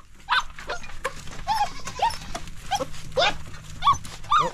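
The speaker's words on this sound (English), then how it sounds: "That the one gonna bark at me when I go across here." A dog barks repeatedly outdoors, giving a string of sharp, fairly close barks and yelps in an uneven rhythm over a faint low hum.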